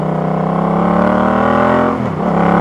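A car fitted with a Van Diemen performance exhaust, made in Australia, drones with a steady, loud low rumble that dips briefly and then swells again, heard close with no voices.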